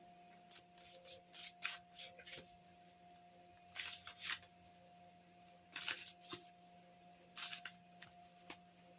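Tarot cards being shuffled and drawn for a reading, heard as soft, repeated papery riffles and slides in short bursts, close by and fairly quiet, with no talking.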